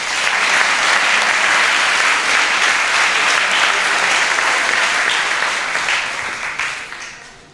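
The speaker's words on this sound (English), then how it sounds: "Big round of applause" Loud, sustained applause from the audience at a hackathon closing ceremony in Zurich, steady dense clapping that tapers off near the end.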